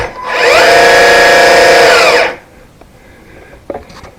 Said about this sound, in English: There's a 6-to-1 reduction gearbox on that motor, so it gives a decent realistic speed.